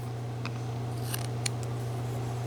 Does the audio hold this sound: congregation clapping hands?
no